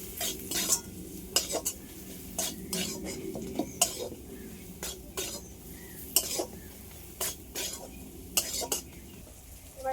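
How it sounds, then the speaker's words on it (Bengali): Chili flakes fry in a pan while a metal spoon stirs them, sharp clinks and scrapes against the pan ringing out irregularly over a faint sizzle, up close with no speech. "চিলি ফ্লেক্স সবগুলো আরেকটু ভেজে নেবো"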